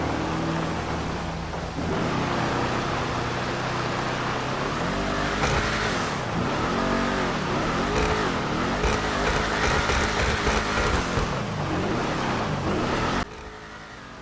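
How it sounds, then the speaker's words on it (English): Imponte Ruiner ZZ-8, a game muscle car styled on the Pontiac Firebird, revs its exhaust loud and close, the pitch repeatedly swelling and falling, before cutting off abruptly near the end. "Let's listen to the exhaust and rev."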